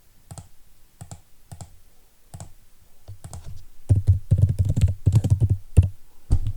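Computer keyboard keystrokes and mouse clicks while working in TB module software, sparse single taps early that thicken into denser bursts of typing, close and crisp, with no one speaking.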